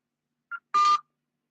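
A telephone number being dialed, heard as two short touch-tone beeps, a brief faint one followed by a longer louder tone, alone in silence.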